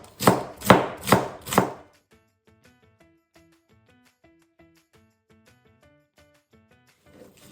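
A knife chops through white cabbage on a board for sauerkraut, with three heavy, evenly spaced cuts close up before a quiet stretch of faint tapping and handling.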